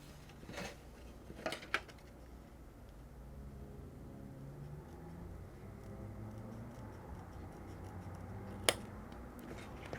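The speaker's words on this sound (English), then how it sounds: "snip the tip of the corner" Scissors snip the corner of an embroidered card holder with a few brief, faint, crisp cuts up close, followed by a sharper single snip later against quiet room background.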